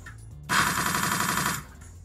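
Tracking-shot attack in the game Dragonfall: a dense, rapid burst of automatic gunfire lasts about a second, loud and close, with quieter background tones before and after.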